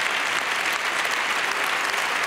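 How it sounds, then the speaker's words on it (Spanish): Audience applause at a live televised show fills the room, a dense steady wash of many hands clapping continuously without pause, fairly even in loudness throughout. "Me gustaría pediros un fuerte aplauso"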